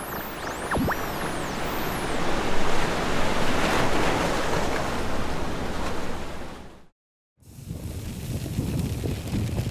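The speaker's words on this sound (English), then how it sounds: "these waves have no land mass to crash into, so they really can build to quite substantial sizes" Simulated ocean waves on an exoplanet with no land mass roll as a loud, continuous broadband surge with a windy quality. The sound drops to a brief silence near the end, then resumes.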